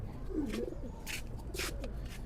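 Soft, low coos from high-flying pigeons repeat a few times at a steady pace, close and quiet against a faint background hiss with some brief higher noises.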